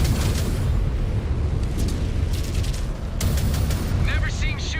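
Weapons fire and explosions from the MechWarrior video game rumble loudly and continuously, with heavy booms, crackling blasts and a few sharper bursts layered over a dense low roar.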